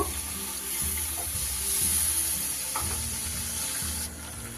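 Water from rinsing a spice bowl is poured into a hot pan holding Kashmiri chili powder and turmeric, a close, continuous splashing pour mixed with sizzling that drops away abruptly near the end.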